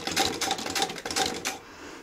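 A Singer 31k15 industrial sewing machine running slowly, giving a steady mechanical clatter with evenly spaced stitching beats about four times a second, close by and clear, before stopping.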